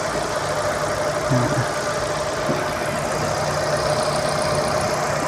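An LPG-injected taxi engine runs steadily at idle with the engine compartment open, giving a continuous, loud mechanical hum with a faint knocking tick throughout and no talking.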